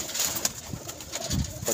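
Soft, low pigeon coos repeating a few times, close by, over a faint background hum.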